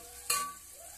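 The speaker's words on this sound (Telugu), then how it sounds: "కొంచెం ఫ్రై అయిన తర్వాత జీలకర్ర వేయాలి" Cumin seeds dropped into hot oil in a pan for jeera rice give a brief burst of sizzling that quickly settles into a steady low frying hiss, close and alone.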